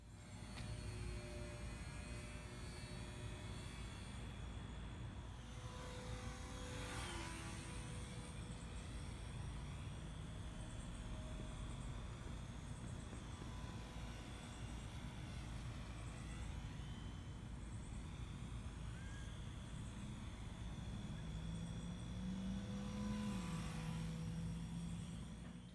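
A three-channel foam profile RC plane with rudder, elevator and throttle flies overhead, its steady buzzing motor drone swelling and shifting in pitch as it passes, with no talk.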